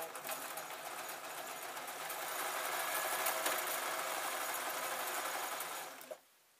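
A sewing machine stitches jelly roll quilt strips, running in a steady, close, continuous whir that builds slightly before stopping abruptly near the end.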